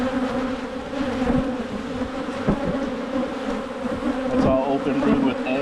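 Honey bees buzz at an opened hive during early spring colony work, a dense, close, continuous drone with faint handling noises and a low voice in the background.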